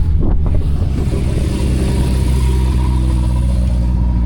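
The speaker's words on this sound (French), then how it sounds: "Oh putain, une Caterham." A Caterham sports car drives on the Nürburgring with a loud, steady low engine drone and heavy wind buffeting throughout, with no voices.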